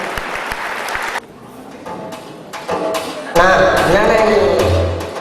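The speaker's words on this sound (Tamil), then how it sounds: "உங்களுடைய கரகோஷம் வாலிபர்கள்" Audience applause for a group of young church performers at a 25th anniversary celebration, a burst of clapping that fades, then swells again with talk and cheering over it.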